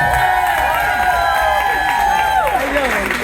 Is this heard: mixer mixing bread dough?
no